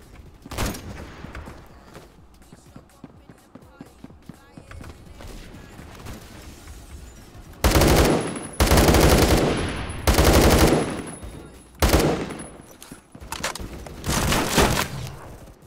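Guns fire in a Roblox shooter game, starting with a few early shots, then long loud bursts of rapid gunfire in several clusters separated by quieter stretches of clicking and movement.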